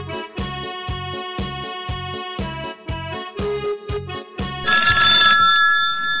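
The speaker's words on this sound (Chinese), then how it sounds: "电话来了" A telephone ringtone for an incoming call plays a repeating electronic melody with a pulsing beat, loud and close, ending in a sustained chime.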